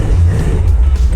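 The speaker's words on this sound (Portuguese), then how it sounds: "com som de V8 no ouvido" A V8 engine, heard from inside a Porsche 911 GT3 while it is being driven, gives a steady, loud, deep rumble that holds for a moment with no talk over it.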